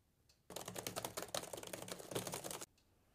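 Rapid keyboard typing in the dark, a dense two-second run of quick clicking keystrokes, close and fairly quiet, with silence before and after.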